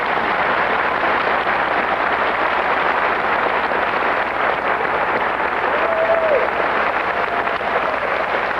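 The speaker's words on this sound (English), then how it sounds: "Let us applaud them." An audience at a doctoral degree ceremony applauds newly risen master's candidates, a dense, steady wash of clapping from many hands filling the hall without pause.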